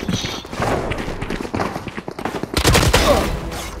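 Rapid gunfire bursts from a first-person shooter video game, with dense overlapping shots and thumps that grow heavier and louder in the last second or so.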